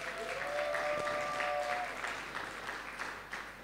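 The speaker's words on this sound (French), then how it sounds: "c'est là qu'on acclame très fort pour le Seigneur" A church audience at a gospel album launch claps in a sustained burst of applause that fades slightly toward the end, with a faint tone ringing through early on.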